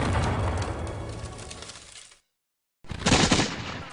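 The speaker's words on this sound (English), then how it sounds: "the British rain a constant barrage of cannon and mortar fire down upon the town" Cannon and mortar fire during a siege, a heavy, loud rolling barrage of booms that stops abruptly into a moment of silence before another close blast erupts.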